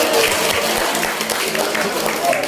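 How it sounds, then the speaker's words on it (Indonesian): Applause during a teachers' training session, a brief dense burst of many hands clapping with faint voices mixed in. "Tepuk tangan untuk Bapak Ibu."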